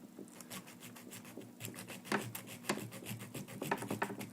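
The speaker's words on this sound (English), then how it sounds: "So if I want to straighten it up, I can take the file," A metal file rasps across a handmade reed wrench to remove burrs, a series of quiet, close scraping strokes in a steady back-and-forth rhythm.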